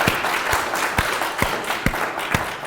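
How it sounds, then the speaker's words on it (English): A conference audience applauds a speaker named Mary Bonnet at a digital conference, a steady round of clapping with a few louder sharp claps standing out, moderately near and without talk. "let's just give her a round of applause"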